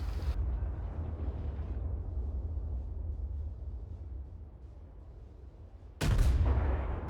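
Heavy naval guns of the Nassau battleship thundering in World of Warships, with loud booming blasts at the start and end and a long rumbling roar between them.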